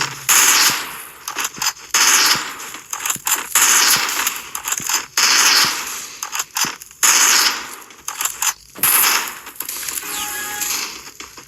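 Bursts of MP5 submachine gun fire in the Free Fire video game, loud rapid-fire strings repeating every second or two with brief gaps between volleys, with almost no talk over them.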